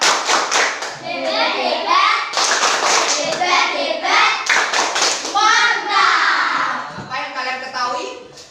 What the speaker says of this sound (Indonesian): Kasih tepuk hebat ya. Tepuk hebat.